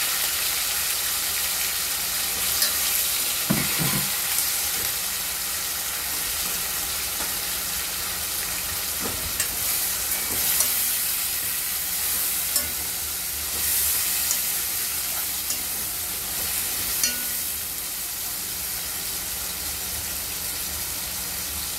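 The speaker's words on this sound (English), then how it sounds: "the seasoning is sauteing" Seasoning sizzles and sautés in a hot pot with a steady, close frying hiss, broken by occasional soft stirring clinks.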